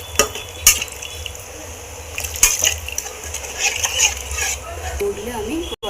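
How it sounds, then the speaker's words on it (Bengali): Water poured into a cooking pot with chili powder and spices for a potol and potato curry, a soft steady liquid wash with light clinks of the pot. "এবার আমি এর মধ্যে জল দিয়ে দেবো।"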